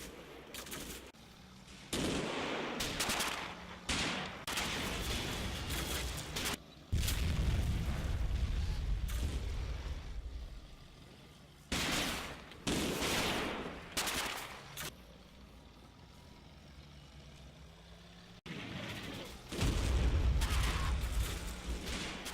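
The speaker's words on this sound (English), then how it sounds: "81mm mortars are brought in to support." 81mm mortar fire and gunfire in the World War II video game Combat Mission: Final Blitzkrieg, loud repeated booms and crackling bursts of rifle and machine-gun fire over a steady rumbling battle background.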